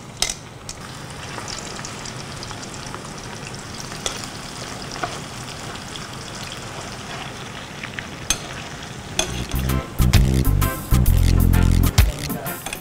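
Pork frying in oil in a thick stainless steel pan over a gas burner, a constant dense sizzle and crackle, growing louder and bubblier with heavier thumps near the end.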